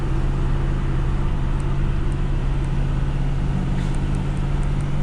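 A 2021 Ford F450 truck climbs a hill hauling a load, its engine droning steadily with a dense, even roar and road noise heard from inside the cab, with no talk.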